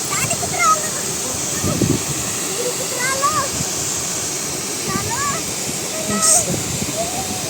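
A waterfall at the source of the Pravara river near Bhandardara, swollen by monsoon rain, gives off a constant rushing roar while voices talk over it.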